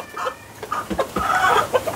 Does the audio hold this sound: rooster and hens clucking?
yes